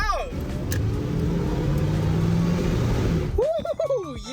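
A truck engine runs loud and steady as it drives, with a broad continuous rumble, then drops away near the end as other tonal sounds take over.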